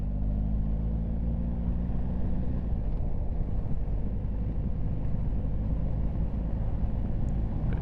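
Cars roll up in busy evening traffic around a BMW R1250GS motorcycle, a steady low rumble of engines and road noise that stays dense and continuous, close by, with an engine tone fading early on.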